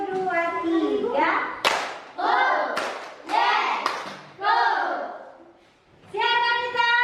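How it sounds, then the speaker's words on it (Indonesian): Schoolchildren clap in rhythm during a classroom chant, sharp hand claps landing between their sung, counting voices, with a few separate bursts and short pauses. "tepuk satu, dua, tiga."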